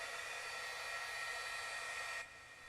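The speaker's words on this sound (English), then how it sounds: "Now, I'm going to go ahead and just zap this real quick with the heat tool" A craft heat tool blows hot air to dry ink on a handmade card, a steady whooshing fan hiss close by that drops off abruptly near the end.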